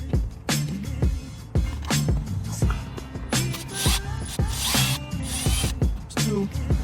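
Phillips screws come out of the dash of a 2003–2006 Honda Accord, heard as repeated close ratcheting screwdriver clicks and plastic rattles in short bursts.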